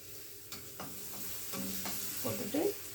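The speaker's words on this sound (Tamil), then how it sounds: "இந்த இஞ்சி பூண்டு லவங்கம் இதெல்லாம் லைட்டாக ஃப்ரை ஆகிடுச்சு" Ginger, garlic and cloves fry in a pan for a capsicum pepper chicken dish, giving a soft sizzle with a few stirring scrapes and light clinks, fairly faint and close.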